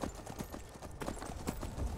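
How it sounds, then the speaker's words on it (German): Horse hooves clip-clop at a steady walking rhythm in the video game Skyrim, close and moderately loud over faint ambient game sound. "Ach, ist egal, wir haben ein Pferd."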